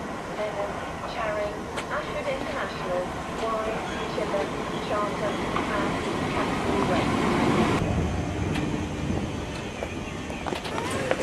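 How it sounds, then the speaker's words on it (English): A train pulls into a station platform at Bearsted, its low rumble and rolling noise swelling steadily toward the end, with faint voices in the background. "Oh, here comes the train."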